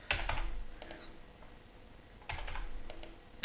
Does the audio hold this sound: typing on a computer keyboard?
yes